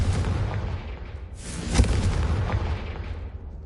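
Confringo explosion spell cast in Hogwarts Legacy, a single deep booming blast about midway with a rumbling burst and fading tail over low ambient game sound.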